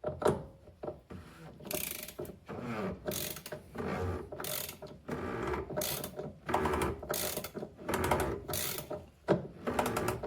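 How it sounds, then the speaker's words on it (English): Repeated ratchet clicking while tightening a diesel fuel filter housing on a Ford Transit Custom, delivered in quick bursts of sharp pawl clicks with short pauses between strokes, close and fairly loud with no talk. "You can tighten it up with a ratchet"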